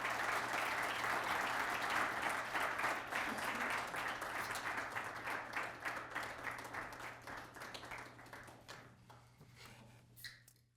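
A lecture audience applauds steadily in a hall, dense clapping loud at first and gradually thinning and fading over about ten seconds, with no talk over it.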